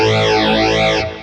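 Electric guitar chord through a 12-stage phaser on a Boss Katana amp, one loud ringing strum whose tone sweeps up and down in a swirling wave before fading after about a second.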